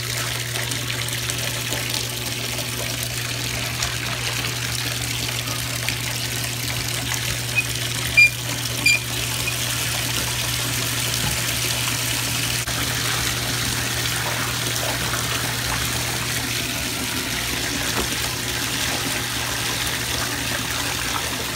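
A bathtub filling from the tap, a steady continuous rush of running water with a low hum underneath, constant level over a long stretch with a couple of faint clicks.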